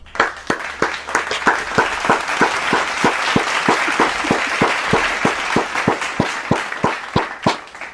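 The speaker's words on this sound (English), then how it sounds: "That deserves a clap." A small group gathered for a post-game show gives a steady round of clapping, individual sharp hand claps standing out in a close, even rhythm that carries on throughout.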